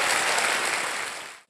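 Studio audience on the KBC quiz show bursts into dense, loud applause for a contestant, a full wash of clapping that holds steady and then quickly dies away.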